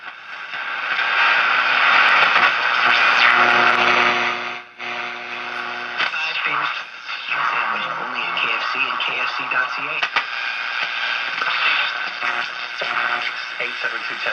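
A restored Stewart-Warner R535 AM tube radio tuned to a distant station, its broadcast heavy with static and hiss. Muffled programme voices come through the noise, with a brief dropout near the start.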